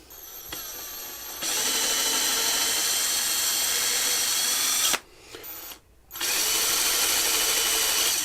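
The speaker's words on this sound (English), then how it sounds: "Let's get drilling." A power drill bores holes into the body of a DIY offset kit guitar, its high whine running steadily and loudly, dropping out briefly twice before resuming.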